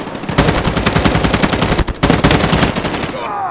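Rapid automatic gunfire in the mobile shooter game Call of Duty Mobile, loud and close, in two sustained bursts with a brief gap between them, fading into ringing at the end.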